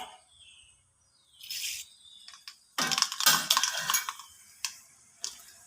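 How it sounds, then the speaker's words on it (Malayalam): Mustard seeds splutter in hot oil left over from grinding, for a Kerala-style sadya ginger curry, with scattered sharp pops and crackles in quick bursts, fairly close and moderately loud. "കടുക് പൊട്ടിയിട്ടുണ്ട്"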